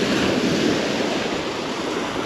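Sea waves wash steadily onto the shore at Lazarevskoye, Sochi, at low tide on a calm morning, a continuous close surf hiss with some wind noise on the microphone and no talk.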